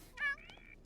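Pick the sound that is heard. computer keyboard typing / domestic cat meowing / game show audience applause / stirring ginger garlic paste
domestic cat meowing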